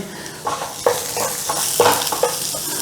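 Onions frying in a pan for a Philly cheesesteak, a constant close sizzle broken by several scraping stirs at irregular intervals, with no voices.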